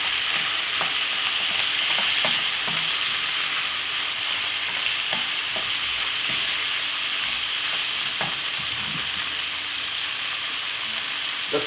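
King prawn fried rice with sweet corn sizzles in a hot pan while a utensil stirs it, giving a steady frying hiss with scattered scraping clicks and taps throughout.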